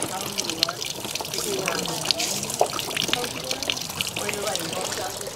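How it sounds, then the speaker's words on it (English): Water pours from a bamboo spout into a hand-washing fountain in Kyoto, a steady close splashing and trickling stream that runs throughout, with people talking over it. "You see how they use the bamboo? It has the water."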